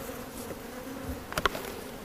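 Honey bees hum at a hive in a steady, close buzzing drone, with a couple of brief sharper sounds near the end.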